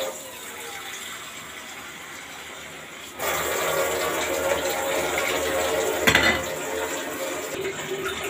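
Water being poured into a pan of potato and egg curry after the spice paste is fried: a quiet start, then a steady, continuous rushing pour that runs for several seconds at moderate loudness.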